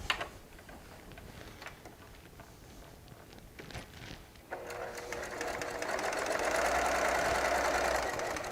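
A sewing machine stitches a quilt seam from charm squares and strips, quiet at first with faint ticking, then running steadily and loudly from the middle to the end, its motor whirring continuously.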